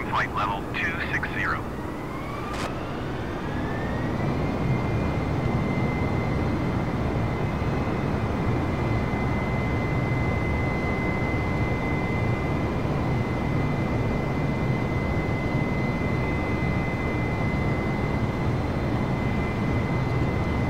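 Airbus A320 airliner climbing in Microsoft Flight Simulator, a steady loud broadband engine roar with a constant high tone running throughout after a brief rising sweep at the start.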